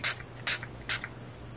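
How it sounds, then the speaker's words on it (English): Setting spray mists onto a face in three quick, evenly spaced hissing bursts, close and crisp against a quiet indoor background with a low hum. "And the final thing is the setting spray."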